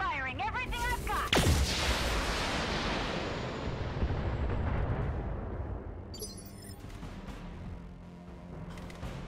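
An LRM 10 missile strike and weapons fire in the BattleTech video game: a heavy explosive boom, then a long rumbling barrage that fades out, with a burst of electronic chatter near the end.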